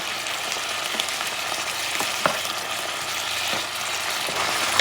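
Tomatoes sizzling in a frying pan as part of a pepper steak, a steady loud crackling fry with occasional clinks and scrapes of stirring, no talk.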